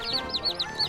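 A chicken clucks in quick, close repeated bursts, a short run of high bright calls.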